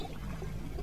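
Water pours into a big goblet in the puzzle game Samorost 3, a continuous, fairly loud rushing splash that fills the whole moment without any talking.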